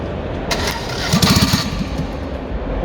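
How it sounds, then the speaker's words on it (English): An old Citroën 2CV engine with a manual choke cranks and sputters briefly, trying to catch, close by with a steady background hum and no speech, at a classic motor show. "They're just about to try starting this engine on James's rebuilt 2CV."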